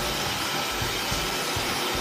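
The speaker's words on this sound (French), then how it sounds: "un sèche-cheveux qui ne fait que ça" A hair dryer blowing cold air in a continuous, loud whooshing roar close by, steady throughout with no pauses.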